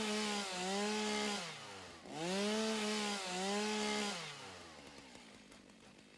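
A chainsaw in the factory-building game Satisfactory revs in two long swelling bursts, its engine pitch rising and falling as it cuts, then tapering off. The sound is close and moderately loud, with no talk over it.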